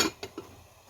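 A lid clanks onto a pot of soup with anchovies, giving one sharp metallic clink followed by two lighter rattles as it settles, close and brief.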